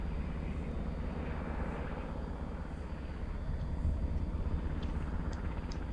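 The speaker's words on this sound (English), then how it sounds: "And you might hear a helicopter in the background." A helicopter towing a large banner flies over a harbourside headland walking area, heard as a steady low rotor and engine drone that holds constant and fairly loud throughout, slightly swelling toward the end.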